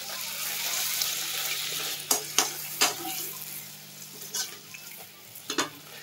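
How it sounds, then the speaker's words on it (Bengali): Luchi puffing while frying in hot oil: a constant bubbling hiss of oil with several sharp splashing and crackling bursts as the bread is pressed and moved, close up, no speech. "লুচিকে দিয়ে এরকম ছটফট করাতে হয় কেন তেলে?"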